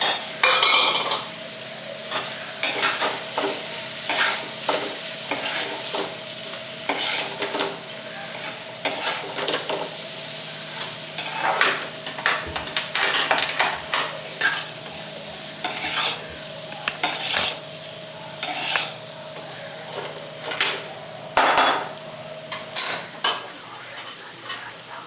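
Boiled potatoes added to softened onions sizzle steadily in a pan while a spoon scrapes and stirs in repeated strokes, close and clear, with no talk.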